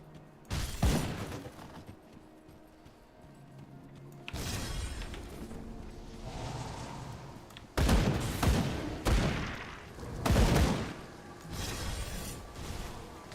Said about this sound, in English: Hearing all the glass breaking everywhere.